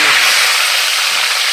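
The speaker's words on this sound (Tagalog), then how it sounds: "tayo ay magpiprito na ng isda" Tilapia frying in a pan, giving a steady, loud broadband sizzle that holds evenly throughout with no pauses, and no talk over it.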